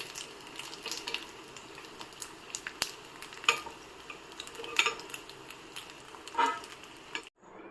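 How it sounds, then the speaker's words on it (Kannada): Pasta deep-fries in hot oil with a steady, fairly quiet crackle and sizzle, broken by occasional light clicks from a utensil or pan. "ಈ ಪಾಸ್ತಾ ಕರಿಯುತ್ತಾ ಇದೆ. ಶಬ್ದ ನಿಂತೊಡನೆ ಇದನ್ನು ತೆಗೆಯಬೇಕು."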